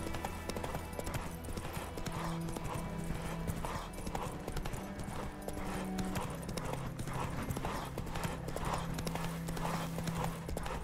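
Roach the horse gallops in The Witcher 3, with steady, rhythmic hoofbeats that run the whole way through, up close and loud, over a low game backdrop and light background speech.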